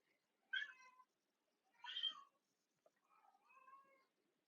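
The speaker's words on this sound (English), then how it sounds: "I'm laughing because my cat is very loud in the background." A pet cat meows loudly several times indoors, three separate drawn-out calls spaced about a second apart, clear and close with no talking over them.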